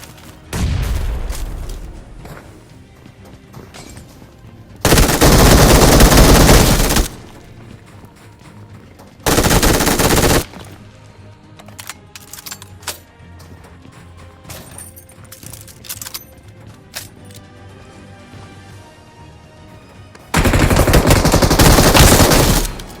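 Sharp automatic gunfire from a mobile battle-royale squad fight, with a solo player taking on a four-person squad, coming in three dense, loud bursts separated by quieter stretches of game ambience and faint effects.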